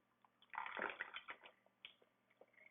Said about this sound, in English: Just going to open it up, pour it right in.